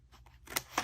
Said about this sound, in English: Then right here you are going to cut